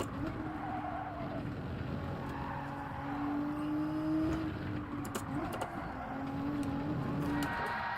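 Porsche race car in Gran Turismo 7 climbing a hill in first gear, its engine note rising and falling as the throttle is worked, with tire squeal and skidding through corners, steady and close.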